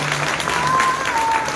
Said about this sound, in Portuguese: Uma salva de palmas para as crianças.